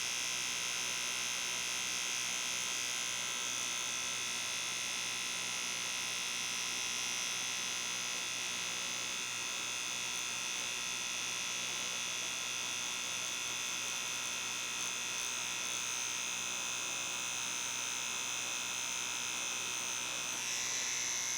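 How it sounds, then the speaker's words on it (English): A tattoo machine needle buzzes steadily while shading a fingerprint tattoo, a continuous electric hum with a high whine that runs unbroken and fairly quiet throughout, with no talking. "we're giving the needle time to do its job"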